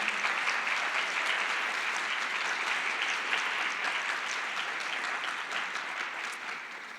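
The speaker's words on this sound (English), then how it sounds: "Give her a hand of applause." Audience at a youth parliament general assembly applauds, a thick, even wash of clapping from a large hall crowd that holds steady and tapers slightly near the end.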